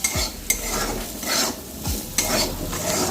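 Spices frying in a pan for a home-cooked vegetable curry, with a steady sizzle broken by several sharp scraping stirs of a spoon against the pan. No one speaks.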